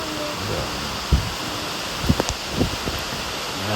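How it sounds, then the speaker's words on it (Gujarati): Heavy rain falls in a steady, dense hiss that fills the whole clip, with a few brief knocks and faint sounds over the constant downpour. "હજી વરસાદ ફૂલ હાલ્યો આવે છે"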